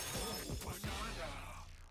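Donkey Kong smashing objects in a video game: a loud crashing shatter of breaking debris with crunchy impacts, fading out over about two seconds.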